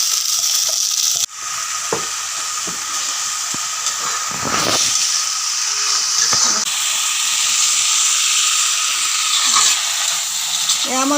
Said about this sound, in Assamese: এয়া মই ভাজি আছোঁ ধুনীয়াকৈ